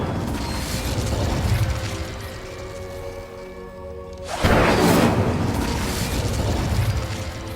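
A fire spell cast in Hogwarts Legacy on PS4 erupts with a loud whooshing burst that swells into a roaring blast, over a steady bed of game ambience and mechanical rumble, with no voices.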